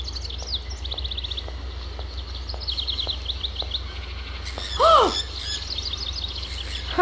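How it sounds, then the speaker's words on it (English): Bird chirps and trills in the game Syberia, repeated high calls scattered over a steady ambient bed, with one louder squawk-like call partway through. "Well, there's some birds."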